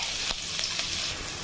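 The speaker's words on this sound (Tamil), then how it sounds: "வெங்காயம் கொஞ்சம் வதங்கட்டுங்க" Chopped onion fries in hot oil with whole spices, a close, continuous crackling sizzle broken by a few sharp stirring taps, with no one talking.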